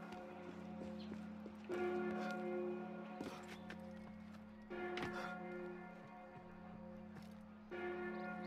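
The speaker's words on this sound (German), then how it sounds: "Und die Glocken läuten." Church bells ringing in the video game Assassin's Creed Unity, set in Paris, a repeated sustained metallic peal struck about every three seconds over a low ambient hum, fairly quiet.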